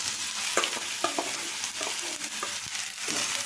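Bottle gourd pieces are added to hot oil already holding asafoetida, curry leaves and chili, and they sizzle loudly and steadily. Scattered scrapes and clicks from stirring sound over the sizzle.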